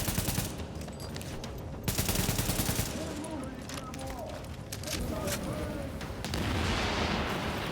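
Rapid AK rifle bursts crackle in The Division video game amid a dense, loud mix of combat noise and explosions, with a voice talking over much of it.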